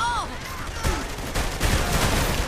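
Gunfire in the video game Saints Row The Third, a rapid fusillade of shots and bursts over a couple of seconds, loud and close, with game voices and a speaker talking over it.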